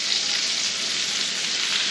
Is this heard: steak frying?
yes